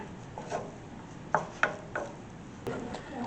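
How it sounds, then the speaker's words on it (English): Noodles are stirred into ramen sauce in a pan, giving soft scrapes and a few sharp utensil clicks against cookware, quiet and irregular. "we're going to add the noodles. Go ahead and mix that in."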